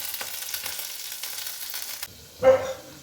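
Cabbage with fried onion, dried chili, green chili and coriander sizzles in a pan as it is stirred, a steady hiss that drops away midway before one brief louder scrape.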